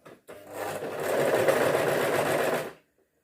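A sewing machine stitches a shirt collar in one steady, loud, close whirring run of about two seconds, starting after a brief click and stopping abruptly into silence.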